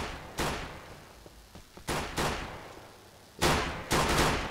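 Gunshots in the LCPDFR police game ring out close and loud, with about six cracks in uneven clusters, each trailing a brief echo, and no talking.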